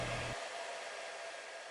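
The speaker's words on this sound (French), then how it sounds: "Le sèche-cheveux, que je n'utilise plus depuis des lustres, se mit en marche." A hair dryer kicks on abruptly and then blows in a steady, even whoosh with no other sound.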